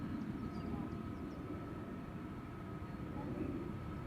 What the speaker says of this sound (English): Yeah, Max 8. Also coming this way. Although, also taxiing towards the threshold